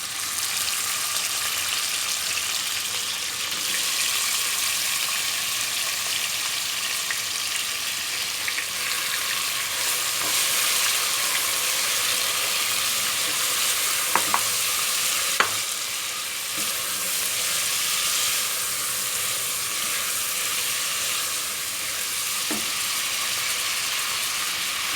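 Beef pieces hitting hot fat in a pan for an onion meat tagine, giving a steady, loud, close-up sizzle and spatter that runs unbroken throughout, with a few faint clicks of stirring.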